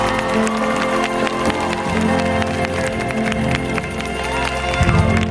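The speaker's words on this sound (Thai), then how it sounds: "ขอเสียงปรบมือให้กับทุกท่านข้างหน้านี้นะครับ" A crowd applauding and cheering for a Royal Thai Navy band at a live concert stage, dense steady clapping with whoops sustained at a loud level throughout, music tones lingering underneath.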